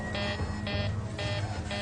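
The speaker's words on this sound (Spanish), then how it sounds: "Ahora se ha encendido la alarma general." General alarm sounding in an aircraft cockpit during an in-flight emergency at nearly 5,000 metres, a rapid pulsing electronic tone repeating in short regular bursts over a loud, constant engine and airflow roar.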